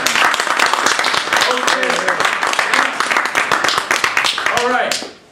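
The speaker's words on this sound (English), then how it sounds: "let's have a warm round of applause for a speaker again" An audience applauds a speaker at a talk, with dense continuous clapping while a voice speaks over it, fading at the very end.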